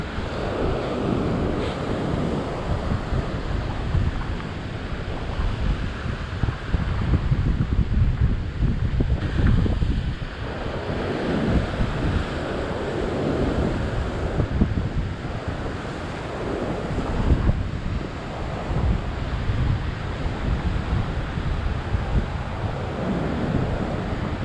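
Ocean waves wash onto a rocky fishing shore in a continuous loud roar, with swells rising and falling and heavy wind buffeting the microphone.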